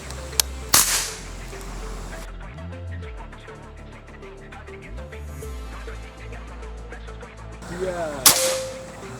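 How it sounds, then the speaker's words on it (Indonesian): Predator PCP air rifle fired with sharp cracking reports, one early pair of shots and another near the end, set among background music and ambient noise. "Kita coba 10 kali tembakan."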